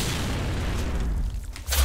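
A grenade detonates in the video game Gears of War, a loud, dense boom that fills the short moment and rumbles on, followed by a fresh burst of impact near the end.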